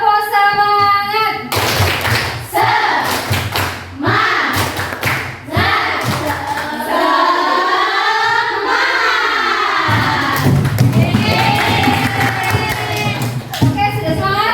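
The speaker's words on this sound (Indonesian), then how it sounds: "Kalau gitu kita mulai dengan tepuk semangat." Students in a classroom perform a rhythmic spirit clap in unison, sharp repeated claps and thumps in a patterned beat, with children's voices chanting and calling along between and over the claps.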